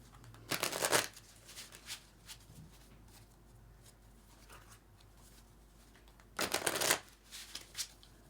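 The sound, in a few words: shuffling tarot cards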